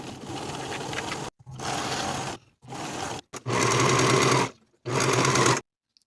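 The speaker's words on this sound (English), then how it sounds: "Now I'll sew this side seam of the dress from the notch to the bottom with a 1/2 inch seam allowance." A sewing machine runs a side seam on an evening dress in five loud, steady bursts of rapid whirring stitching, separated by short silent pauses, close and with no talking.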